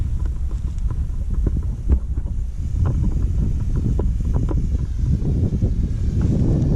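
Steady, rushing wind at an airfield buffets the microphone as a continuous low roar, with faint thumps and rustles scattered through it and no voices.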